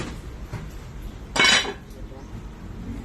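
A heavy lid clatters off a cooking pot of chop suey, a single loud metallic clank with a short ring, set against quiet kitchen background.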